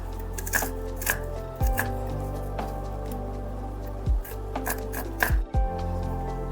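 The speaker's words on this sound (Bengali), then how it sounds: "পেঁয়াজগুলো আর কিছুই না, এইভাবে একটু সরু সরু করে কেটে নিতে হবে।" A knife slices onions thinly on a cutting board for pointed gourd with poppy seeds, giving a series of crisp, close chopping taps at an uneven pace, with a few heavier thuds against the board and no talking.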